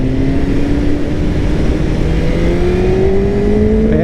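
A 2023 BMW S1000 RR motorcycle engine pulls hard under acceleration, its rising tone climbing steadily and loud throughout, with strong wind rush and no talk.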